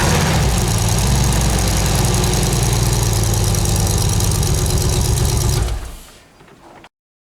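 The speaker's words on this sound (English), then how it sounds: "I'm just going to say I'm firing it up to check for leaks." A swapped LS V8 in a Toyota Celica GT-S idles loudly and steadily right after startup, its close, rough rumble holding constant for several seconds before shutting off and fading away.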